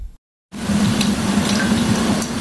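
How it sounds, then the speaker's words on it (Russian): Water drips and trickles in the flooded basement of an apartment building, a steady close watery wash with soft scattered drips that starts abruptly after a brief silence and continues without pause. "Капель в подвале дома номер 7 по улице Светлой уже давно."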